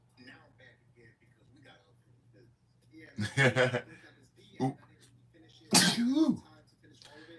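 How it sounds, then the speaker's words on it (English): A person sneezes loudly and close, with a buildup and a second strong burst over a steady low hum, with voice sounds between them. "I was just possessed by a sneeze"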